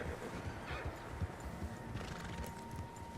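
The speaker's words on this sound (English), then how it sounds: "Horses, quite a few of them." Several horses in Red Dead Redemption 2 clop steadily on hooves with a whinny mixed in, a busy, moderately close herd sound over light ambience.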